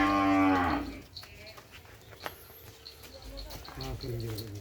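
A cow lets out a loud, close moo at the start, followed by quieter barn sounds and a second, fainter moo at the end, on Sapudi Island.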